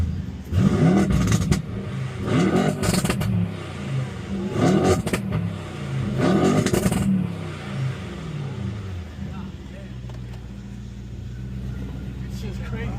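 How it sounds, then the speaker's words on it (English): Mercedes E63s with an 800 hp stage 2 engine revving, several loud bursts in a row with pauses between, then settling to a steady idle; people talk nearby. "Give me a quick little rev."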